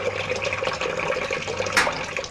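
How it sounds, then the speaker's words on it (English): Water gushes steadily into a washing machine through an electric solenoid valve, a loud continuous rushing splash close by with a brief sharper burst near the end. "The first thing that happens when you turn the machine on is that water gushes in"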